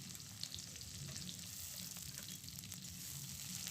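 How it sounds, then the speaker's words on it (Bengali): Chopped onion with garlic and ginger paste frying in a pan, a soft, steady sizzle heard close up and alone, fairly quiet throughout. "এটাকে হালকা একটু ফ্রাই করে নিচ্ছি"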